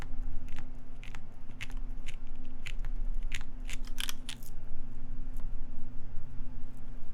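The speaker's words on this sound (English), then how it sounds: "You guys hear that bottoming out?" Keys on a Keycult No.1 mechanical keyboard pressed hard enough that the PCB bottoms out, making crisp, irregular clacks over a steady low hum, with a dense cluster near the middle.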